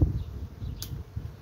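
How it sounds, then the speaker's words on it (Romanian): Many bees arriving at a large swarm beside a hive, a low buzzing drone close by with brief louder passes, heard alone over a short moment. "Foarte multă albină vine."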